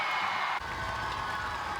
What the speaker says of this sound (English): Senghua's shot sent the crowd cheering in the stands